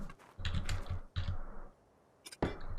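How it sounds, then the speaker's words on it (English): Bursts of clicky typing on a computer keyboard, close and fairly quiet, with two rapid runs of keystrokes separated by a brief pause and a final short flurry. "If I can type."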